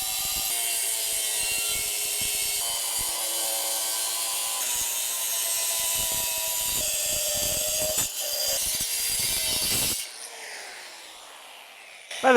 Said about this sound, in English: these diamond tip metal cutoff wheels are the best.